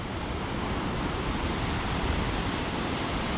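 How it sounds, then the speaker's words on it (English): A lively, turbulent river rushes through a valley at Roaring Meg near a hydroelectric station, a dense, steady roar of churning water filling the air without letup, loud and close with no voices. "we've just stopped at the Roaring Meg bit of the river here"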